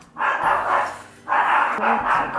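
Dogs barking nearby, loud repeated woofs in two bursts separated by a short pause, carrying over a quiet indoor room with no clear talk.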